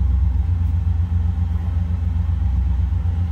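A 1965 Cadillac DeVille convertible engine idles steadily with a deep, low rumble, running continuously without other sounds.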